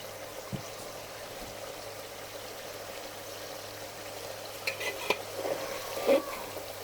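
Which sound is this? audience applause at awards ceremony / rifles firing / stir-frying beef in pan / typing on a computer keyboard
stir-frying beef in pan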